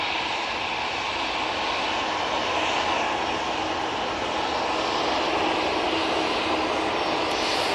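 A Jet2 airliner taking off from Manchester Airport bound for Palma de Mallorca, its jet engines a steady, loud, broadband roar that holds for the whole stretch with no talking.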